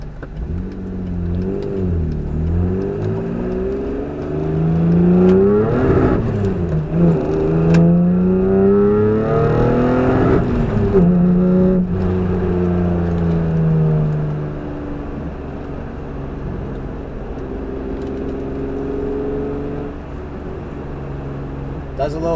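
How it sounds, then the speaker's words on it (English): A car with ported and polished intake manifolds and a cylinder modification pulls hard on the highway with the windows up. Its exhaust swells and rises in pitch through the gear, close and steady, and eases off toward the end. "I hear a little difference in the exhaust tone"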